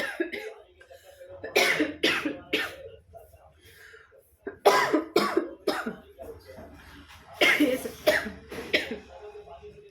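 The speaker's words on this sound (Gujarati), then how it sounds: "સંબંધોનું નામ લેતાય મને ખાંસી આવી ગઈ બોલો" A few sharp coughs burst out between stretches of talking, close and fairly loud, separated by short pauses.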